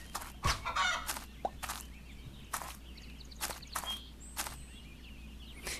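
Chickens clucking in the video game Elsewhere, a few short clucks and squawks spread across a quiet ambient background, with faint soft steps.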